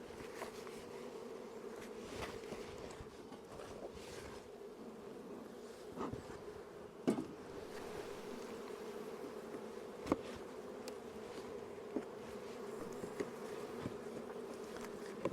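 Honey bees buzz steadily around a strong beehive, a constant low drone with occasional louder passes of individual bees close by, no speech.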